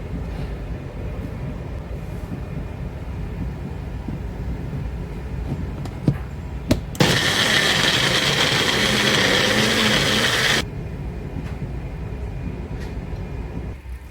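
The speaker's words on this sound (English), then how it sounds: "I'll be just giving that a quick blend in the magic bullet" A Magic Bullet blender whirring through garlic, scallion and thyme, one short, steady buzzing burst of about four seconds rising out of a quiet room hum and stopping abruptly.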